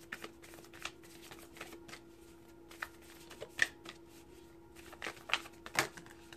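Tarot cards shuffled by hand in a quiet room, a soft, close run of papery riffles and taps that builds to a few sharper snaps near the end, with no voice over it.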